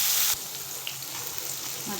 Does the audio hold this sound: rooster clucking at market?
no